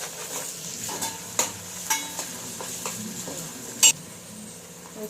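Ginger garlic paste being stirred in a hot pan while cooking a fish dish, a soft steady sizzle broken by a few sharp spoon clinks and scrapes against the metal, with one louder clank near the end.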